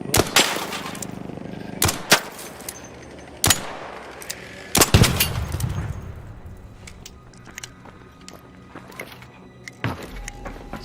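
Gunfire in ARC Raiders aimed at ARC machine enemies: several sharp, loud single shots at uneven intervals, some followed by rumbling blasts and debris, then lighter distant pops.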